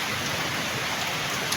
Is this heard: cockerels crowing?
no